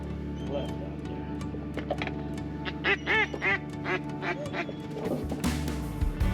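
A flock of ducks quacks in a repeated burst of calls over open coastal marshland on a hunting day, moderately close, with people talking in the background.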